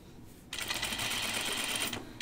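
A sewing machine stitches a dress seam, its fast, steady mechanical whir starting abruptly after a quiet half second and running continuously up close until the clip ends.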